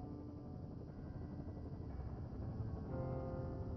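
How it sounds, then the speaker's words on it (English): Helicopter in the video game Firewatch, a faint, distant low rotor rumble with steady chopping that grows slightly louder toward the end, with no talk over it. "There's the helicopter."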